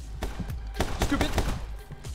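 Rapid bursts of gunfire from a shooter video game, several sharp shots in quick succession at close range with broadband cracks over about two seconds.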